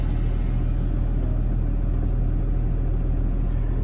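A vehicle engine idling with air pressure up, a steady low rumble with no speech over it.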